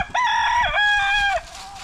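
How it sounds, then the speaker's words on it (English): A rooster crows once, close and clear, a drawn-out two-part call lasting over a second against quiet outdoor background. "I thought that'd be a good name for a rooster, Dominic."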